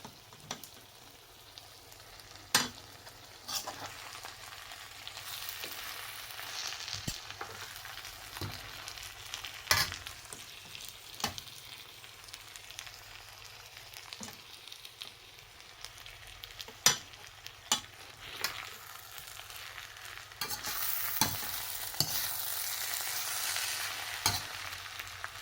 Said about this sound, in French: on vient prendre le riz et le rajouter à la viande pour bien faire le mélange avant de servir